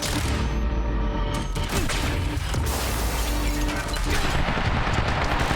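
Sustained, dense gunfire in the video game Quantum Break, a loud continuous fusillade of overlapping shots and booms filling the whole stretch with no pause.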